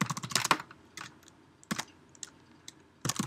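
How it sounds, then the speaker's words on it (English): Quick bursts of clicky keystrokes on a computer keyboard, small clusters of taps separated by short pauses, close and fairly quiet. "Now start typing."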